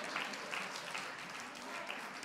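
Faint, scattered hand clapping from a church congregation at a noon Bible study, light and somewhat distant, continuing steadily for a couple of seconds.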